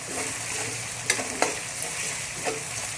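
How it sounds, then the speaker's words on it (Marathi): Finely chopped tomato frying in hot oil in a pan, a steady close sizzle with a few sharp spatula scrapes and pops, no voices. "एक मीडियम आकाराचा टोमॅटो अगदी बारीक चिरलेला आपल्याला फ्राय करून घ्यायचा आहे थोडासा सॉफ्ट होईपर्यंत"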